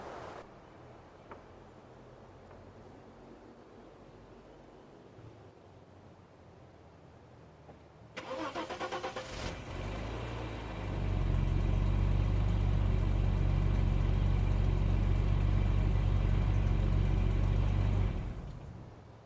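A Bitter SC with Bosch L-Jetronic fuel injection, its injection harness newly replaced, makes a cold start attempt: a quiet wait, then a cranking burst and the engine catching. It settles into a loud, steady idle before cutting off near the end.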